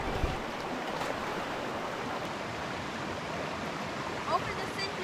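A river rushing after heavy rain, a steady broadband wash of flowing water that holds constant and fairly loud throughout, with no voices over it.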